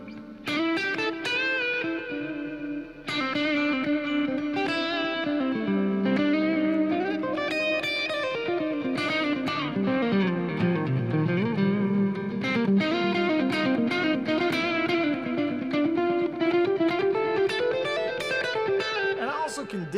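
Electric guitar lead tone driven hard through a distortion pedal, sustained and loud throughout, with effects and reverb audible and no talking.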